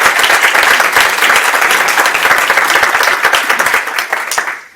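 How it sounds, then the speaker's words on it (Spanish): A conference audience gives sustained applause for a panel on public-sector collective bargaining, loud, dense clapping from a large crowd that tapers off at the end. "les pido un especial aplauso para esta mesa"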